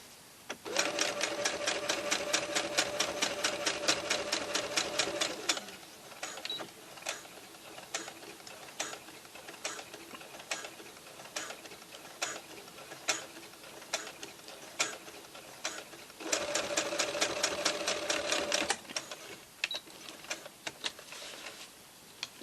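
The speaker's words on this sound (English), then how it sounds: "So just going to reposition my needle, do a little back stitch to start with." Sewing machine stitching a circle skirt's fabric flat, starting with a short back stitch: fast mechanical whirring runs in two loud bursts at the start and end, with quieter clicking and ticking of the mechanism between them.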